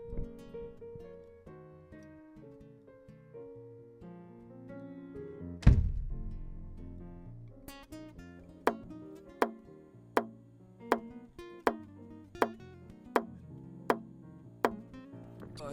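Kick drum hits for a latency detection test, miked close to the source: after a muffled thump and quiet background, about ten sharp, evenly spaced thuds follow in a regular rhythm.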